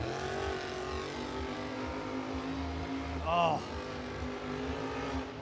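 A monster truck at a stadium Monster Jam show roars under heavy engine load, a steady loud drone with a brief rising squeal mid-clip, while an announcer's voice and crowd blend in.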